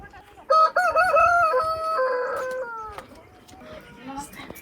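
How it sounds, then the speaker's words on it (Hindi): A rooster at a small roadside house where chickens are kept crows once, loud and close, with a long wavering call, followed by quieter clucking and faint background voices. "मुर्गियाँ पाली हुई हैं।"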